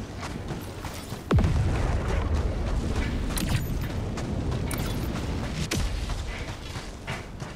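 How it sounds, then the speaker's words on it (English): In Helldivers 2, a support weapon drop pod screams down with a falling whistle and slams in with a heavy boom. Mechanical creaks and rumbling follow, and another descending whistle comes later. "Support weapon inbound."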